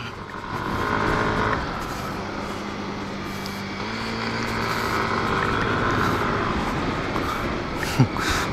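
A Yamaha NMAX Turbo scooter accelerates on a test ride at Sentul, its engine a steady droning hum with wind noise that rises gradually over several seconds, heard close from the rider's position.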